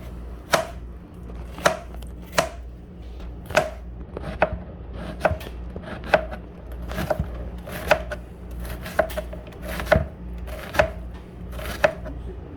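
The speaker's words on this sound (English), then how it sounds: "When you're chopping onions" Steady knife chopping onions on a cutting board, sharp distinct strikes at an even, unhurried pace, close up with no talking.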